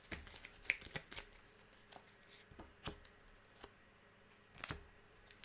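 A deck of cards shuffled by hand for a board game, quiet riffling bursts and sharp card snaps scattered across several seconds, close and alone without talk.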